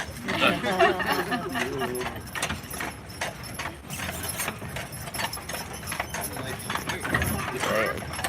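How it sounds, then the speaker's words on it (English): A horse pulling a tour carriage, its hooves clip-clopping steadily with an occasional squeal, heard beneath continuous chatter from people riding along. "That's a horse."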